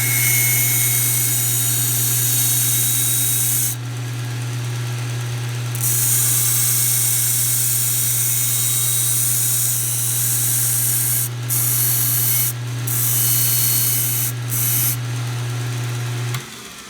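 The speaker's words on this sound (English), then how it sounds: "I'm using sound almost as much as I'm using sight to figure out how much contact I'm making between the blade and the belt" A kitchen knife blade is held against a running sanding belt on a belt grinder, giving a loud continuous hiss and hum with steady motor drone, the bright grinding hiss dropping out briefly several times as the blade is lifted and repositioned.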